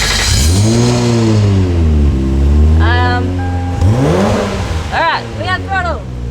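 A twin-turbo 1JZ engine in a Nissan Skyline revs just after starting, loud and near, its pitch rising and falling in long sweeps, then several quick sharp throttle blips at the end.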